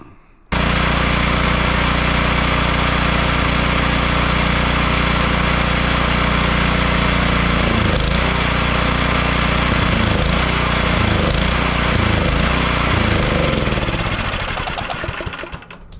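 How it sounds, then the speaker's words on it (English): A snowblower engine running steadily and loudly, then starting to sputter and stumble unevenly as it runs out of fuel before cutting out near the end, with no talking. "this is what it sounds like when you run your snowblower out of fuel"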